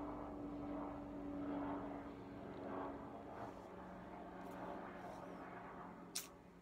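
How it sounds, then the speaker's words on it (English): A propeller airplane drones steadily as it passes overhead, a broad continuous engine hum swelling and fading over several seconds, moderately distant, with a brief sharp click near the end and no talking. "There's a plane."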